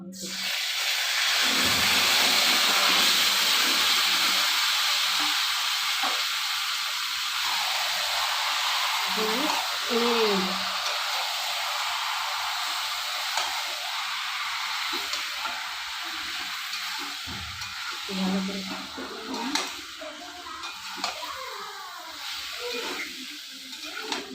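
Food fried in hot oil gives a loud, steady hiss and sizzle that fades slightly over time, with a person talking briefly now and then.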